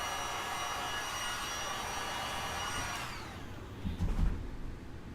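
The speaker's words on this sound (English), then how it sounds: "let me heat it first because I don't want to blow all the top chunks away" A heat gun warming resin coasters, a steady loud blowing roar that cuts off partway, followed by a few soft clattering knocks.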